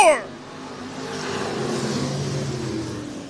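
Stock race cars run three wide on a small speedway's back straightaway, engines droning and revving in a steady blended roar under an announcer's call.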